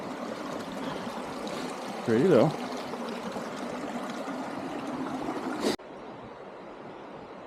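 A small mountain creek flows on a cold fall trail, a steady rushing wash of water nearby, with a brief spoken remark and a sudden clunk near the end before the flow continues more quietly.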